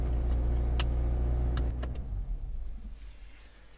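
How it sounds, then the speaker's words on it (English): A Subaru Crosstrek engine runs with a loud, close low rumble and a few sharp clicks and ticks, then the sound drops and fades to a quieter tail near the end. "And when you start this car,"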